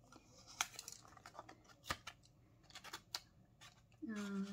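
A sealed paper letter held shut with ordinary tape is opened at close range, producing sharp snips, tearing and handling clicks in irregular bursts, with a short tonal sound near the end.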